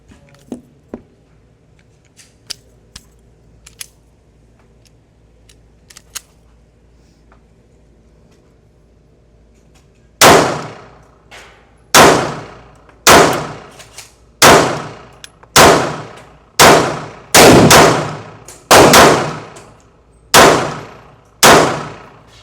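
A Smith & Wesson Bodyguard 2.0 Comp .380 ACP pistol fires about ten loud, sharp shots in a steady rhythm after a stretch of quiet with faint clicks, each report close and ringing out briefly.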